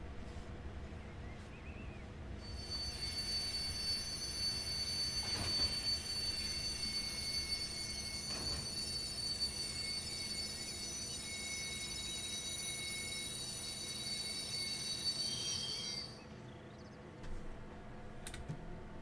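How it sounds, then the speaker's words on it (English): A train passing on the line in Train Simulator Classic, with a steady rolling rumble and a sustained high metallic wheel squeal that fades out near the end, leaving quieter clatter. "just in case the train goes past that's overtaken us"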